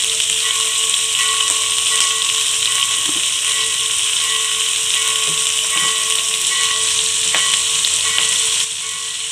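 Chopped onions and green chillies with a little salt frying in a pan, a loud, steady close-up sizzle and hiss that runs throughout with faint stirring scrapes.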